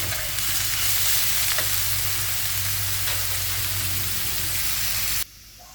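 Onion, green chili and garlic fry in a pan with a loud, dense, continuous sizzle heard up close and a faint low hum beneath it. The sound cuts off abruptly near the end.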